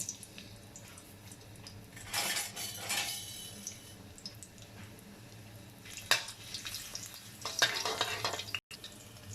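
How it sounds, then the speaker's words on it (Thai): Crushed garlic drops into a hot wok with about two tablespoons of oil, giving sizzling, crackling bursts that swell and fade, with metal utensil clinks and scraping between them and no talk. "ทีนี้เราก็ใส่กระเทียมบุบๆลงไปนะคะ"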